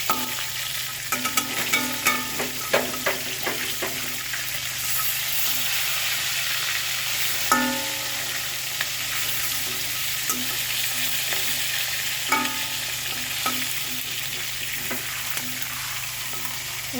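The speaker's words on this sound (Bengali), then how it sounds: "মাছগুলো ভাজা ভাজা হতে থাকুক।" Bhetki fish sizzles and fries steadily in a pan, a continuous close crackle broken by occasional scraping and clinking as the pieces are turned, with no one talking.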